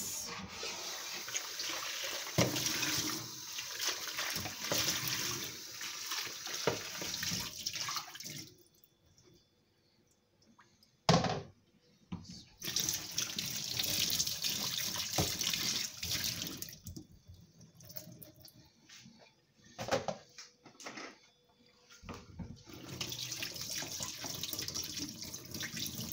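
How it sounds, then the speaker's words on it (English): Tap water runs in a sink while a blender bowl is rinsed, a steady broadband rush broken by short pauses when the flow stops, with a clunk of the bowl and a few drips before the water resumes. "And I am gonna give my bowl a rinse."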